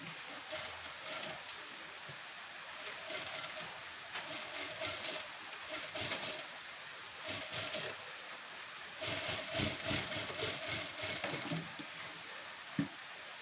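Domestic sewing machine stitching a double line of stitches along a blouse cup seam, its rapid mechanical whir running in several bursts with short pauses between them, steady and close.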